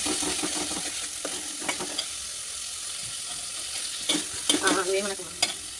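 Onion fries with ginger-garlic paste and turmeric in a pan, giving a steady sizzle broken by scraping stirs and a few louder clatters of the spoon near the end.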